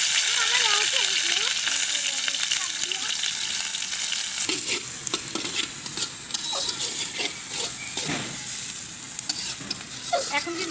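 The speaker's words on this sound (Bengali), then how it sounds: "এখন দিয়ে দেবো হচ্ছে কেটে রাখা মরিচ পেঁয়াজগুলো।" Chopped chillies and onions hit hot mustard oil in a wok, a dense loud sizzle with crackles, while a spatula scrapes and clatters through the pan and a voice is briefly heard in the background.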